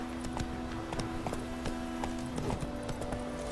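Roach the horse trotting in The Witcher 3, a quick even clip-clop of hooves at close range over a steady low background hum, no talking.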